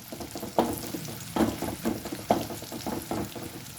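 Curry leaves frying in hot oil for churumuri chooda crackle and sizzle in close, loud bursts, roughly five sharp spurts as the leaves are stirred in, with no talking.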